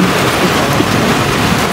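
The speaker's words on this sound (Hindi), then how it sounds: "मेरे को लगता है इस सीजन की पहली ऐसी बारिश ऐसी भड़ा के गिरी है।" Heavy rain, the first hard downpour of the season, roars in a dense, loud, continuous wash close by, with low rumbling underneath and no voices.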